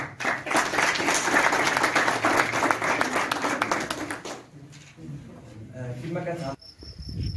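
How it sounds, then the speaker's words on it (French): An audience at a university boxing event in Ifrane applauds loudly for several seconds, the clapping then fading out as softer voices and scattered sounds take over. "Je vous applaudis."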